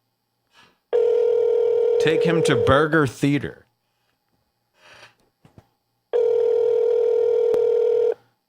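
A phone call rings out over a Skype-style line in long steady electronic ringback tones, with a garbled clip of a voice between the rings, loud and close.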